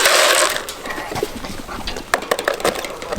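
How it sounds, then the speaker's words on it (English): A regular chicken egg and a bantam egg are cracked open by hand, giving a few sharp crunching snaps of breaking shell close to the listener, mostly in the second half. "I'll just crack them for you."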